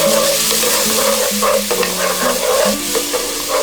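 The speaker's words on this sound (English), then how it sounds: "So now we'll add the ginger garlic paste and saute" Ginger garlic paste sautés in a pan for dal makhani: a loud, close, dense frying hiss with scraping stir strokes running through it, with no voices.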